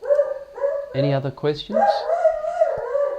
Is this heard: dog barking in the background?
yes